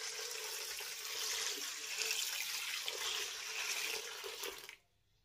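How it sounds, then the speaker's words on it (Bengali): Strained water runs steadily onto grated raw potato for homemade cornflour, a close, continuous splashing pour that stops abruptly near the end. "একই রকম ভাবে জলটাকে ছেঁকে নেব। আবারও এর ভিতরে দিয়ে দেবো জল।"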